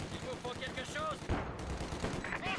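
Gunfire in the real-time strategy game Company of Heroes 2, with bursts of shots and a sharp louder blast partway through. A voice talks over the battle noise.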